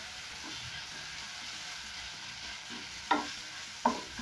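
Garlic and ginger paste frying in a pot for one-pot spaghetti bolognese gives a low, steady sizzle, broken near the end by two sharp clinks of a utensil against the pot.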